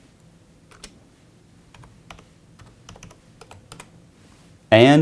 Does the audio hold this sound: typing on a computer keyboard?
yes